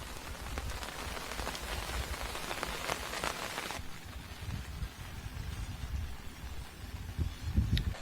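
Steady rain falling on a village on a Saturday morning, a dense continuous patter that drops slightly in intensity partway through, with a few low knocks near the end.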